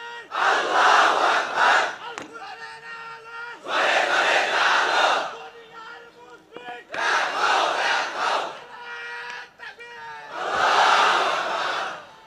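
A large crowd shouts a takbir chant in four loud, full-throated surges, each lasting about two seconds, with quieter gaps between them.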